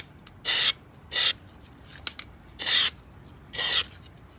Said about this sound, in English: We're just going to spray the inside of those headlight bulbs with some Eastwood Rust Encapsulator